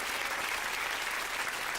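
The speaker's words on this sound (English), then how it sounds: "Give Sooty a round of applause." A theatre audience applauds a Sooty puppet magic trick with a brief, steady burst of dense clapping, many hands blending into an even, continuous roar.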